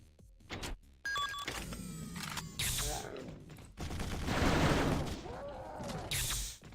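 A chain gunner enemy in a Doom roguelike opens fire, rapid mechanical gunfire in loud bursts mixed with game effects and ringing tones, and voices come in over the top.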